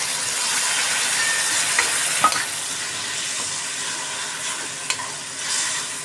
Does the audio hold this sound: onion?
yes